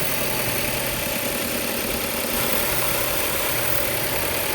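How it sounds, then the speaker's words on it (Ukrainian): An Audi A6 C6 2.0 TFSI engine idles steadily nearby under abnormally strong vacuum, a continuous low hum with a faint uneven pulse and a constant high whine, no voices. "Коли утворюється дуже сильний вакуум у двигуні, бачите, можна почути навіть по цьому звукові"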